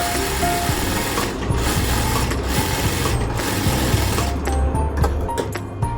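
A sewing machine runs fast and steady while stitching a katori blouse, its close, loud mechanical whir holding continuously with brief slowdowns and no speech.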